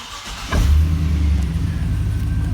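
A 2006 Chevrolet 2500HD 4x4 pickup engine cranks and catches, then settles into a steady low idle, loud and close with no talking.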